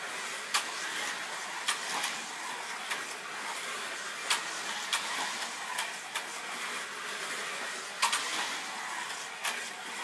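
Carrera slot cars whirring around a track layout, a steady buzzing motor drone with periodic sharp clicks and ticks as the cars pass over joins, continuous and fairly quiet, with no one talking.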